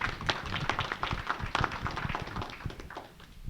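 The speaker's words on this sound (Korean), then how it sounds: "박수 한번 보내십시오." Audience clapping at a Korea–US science and technology innovation talk concert, a fairly sparse, uneven patter of individual claps that thins out and fades near the end.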